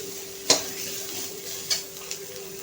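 Sliced onion browning in a dry pan with no oil, heard as a faint steady sizzle broken by a few sharp scrapes of a spoon stirring against the metal.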